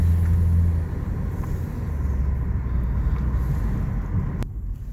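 Interior of a 2014 Ford Escape on a short test drive just after an oil change: steady low engine and road rumble with wind noise, easing slightly near the end, no voices.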